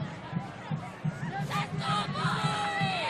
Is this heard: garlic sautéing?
no